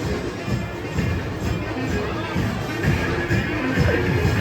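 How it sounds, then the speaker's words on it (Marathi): Dense crowd of wedding guests at an Indian wedding hurrying toward the meal, a steady close hubbub of overlapping voices, footsteps and shuffling with no single voice standing out. "बाबा बाबा एवढी गर्दी, खूप गर्दी, खूप म्हणजे खूपच गर्दी आहे."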